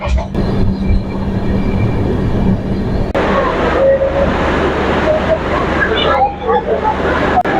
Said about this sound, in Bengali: এসে পৌঁছালো বারোটা পঁয়ত্রিশ মিনিটে তার মানে পঁয়তাল্লিশ মিনিট লেটে ঢুকলো এই ট্রেনটি